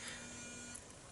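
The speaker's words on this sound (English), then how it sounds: "That's my alarm reminding me that I need to go to work soon." An alarm sounds as a faint, continuous electronic tone lasting about a second, with no talk over it.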